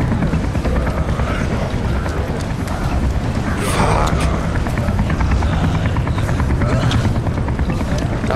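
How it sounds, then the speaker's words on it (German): Helicopter in the video game Zombi: a loud, steady rotor roar with rumbling wind-like noise throughout, mixed with game sounds and no clear pauses. "Wo ist der Helikopter?"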